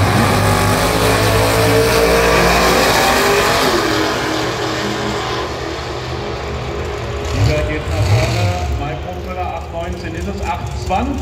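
A drag racing car accelerating at the Hockenheimring during the Nitro Olympx, a loud, sustained engine roar that fades over several seconds, with a commentator talking over it.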